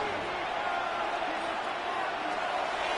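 A Buffalo stadium crowd in a football video game gives off a steady, broad roar before a third-down play, an even wash of noise that does not let up.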